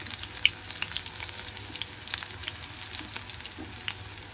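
Chilies fry in hot oil in a home kitchen pan, a continuous close sizzle with scattered crackles and pops throughout, and no one speaking.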